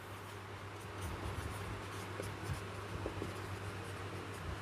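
A pen or pencil scratches on paper while a maths solution is worked out, a soft, continuous, close scribbling over a low steady background hum.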